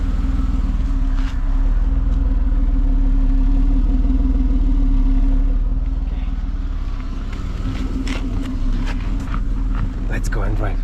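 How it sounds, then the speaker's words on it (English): A 1992 BMW E34 520i with the M50 inline six-cylinder engine idles in a steady, smooth low hum close by, with small clicks and shifts near the end. "I love the sound of 6-cylinder."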